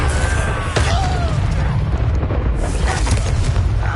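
Booming explosive blast from the Confringo spell in Hogwarts Legacy on PS5: a loud, heavy rumble with bursting crackle that rolls on continuously, and voices are heard briefly over it.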